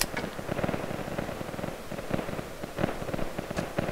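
Explosions and blasts in the Vietnam War video game Project Reality Vietnam, with several sharp cracking bursts in a dense, continuous rattle of combat noise throughout.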